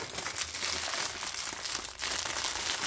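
Loud, continuous crinkling of thin plastic being handled and pulled open, rustling close up without pause.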